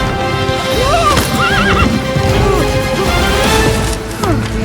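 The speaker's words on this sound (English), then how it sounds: "We jump on the horses and ride away! But the horses, they're moving!" Horses gallop with dense clip-clop hoofbeats while several loud neighs and whinnies ring out over the top, with a crash partway through, all close and energetic.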